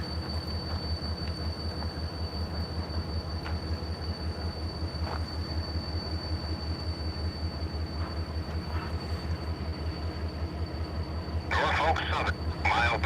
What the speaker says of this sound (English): There goes our westbound train.